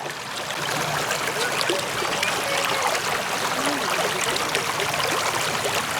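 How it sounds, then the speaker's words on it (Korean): Stream water running along a valley walking path beneath a castle, a steady broadband rush and trickle that stays constant and fairly close throughout, with no voices over it. "물소리 좋다."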